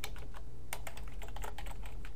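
Rapid clattering keystrokes on a computer keyboard while writing PHP code, steady and close, with bursts of quick taps and no talking.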